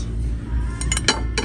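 Italian ceramic teacup and small teapot clink and knock together as they are handled in a store, with a few short, bright clinks over steady background noise.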